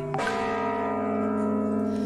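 A church bell struck once near the start, its rich ringing tone then sustaining and slowly fading, loud and close.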